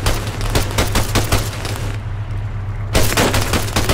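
Rapid bursts of video game gunfire crackle loud and close, a dense fusillade of shots with a brief lull before the firing resumes.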